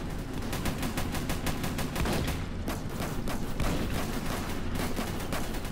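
Rapid gunfire in the Roblox game Armored Patrol, a dense run of sharp repeated shots with heavy thumps underneath that keeps going steadily the whole way through, with no talking.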